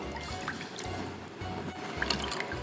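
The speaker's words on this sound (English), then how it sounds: "for what is going in now, which is our milk" Two cups of whole milk pour into a pot in a home kitchen, a faint, steady trickle running for a few seconds over a low background hum.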